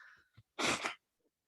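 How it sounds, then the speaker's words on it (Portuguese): A single loud, close sneeze bursts out after a brief inhale in a quiet indoor room, followed by near silence. "Vou dar um espirro."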